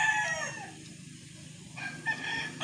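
Chickens and chicks on a farm in Candelaria, Quezon are heard nearby, with a rooster's crow and other crowing and clucking calls rising over a low background hum and fading back and forth through the moment.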